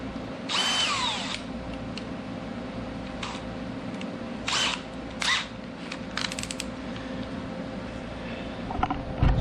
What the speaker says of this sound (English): I use a smaller drill bit to drill the first hole, kind of a pilot